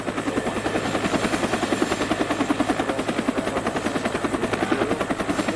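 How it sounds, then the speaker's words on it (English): A helicopter flies above Brisbane, its rotor beating as a loud, steady, rapid thump that runs unbroken and close throughout, with no talking. "we're in the old T-Rocks chopper again"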